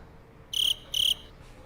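Crickets chirping, two loud high-pitched trill bursts in quick succession close by, over quiet background hiss.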